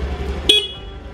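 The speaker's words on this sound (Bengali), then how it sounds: "হর্ন" A rented scooter's horn gives a single short beep on a road in Chakrata, Uttarakhand, sounding once over a low rumble of traffic and engine.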